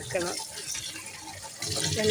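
Running water splashing while a face is washed, a soft steady gush close by with brief surges, under a person's speech.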